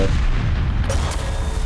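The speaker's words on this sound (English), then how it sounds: "The explosion blocked my vision at the worst time." A single heavy boom from an explosion in the tank combat game War Thunder, muffled and close, over a constant low rumble.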